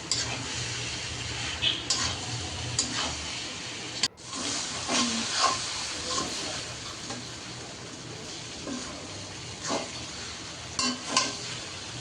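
Boiled noodles stirred with packet spices in a pan, a steady frying sizzle with scraping stir strokes and occasional clinks of utensil on the pan, close and continuous throughout.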